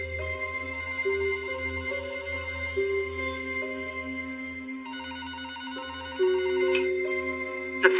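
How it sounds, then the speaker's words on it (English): A telephone rings in repeated electronic trills over a low steady hum, fairly faint and alone with no voices. "The phone woke me up."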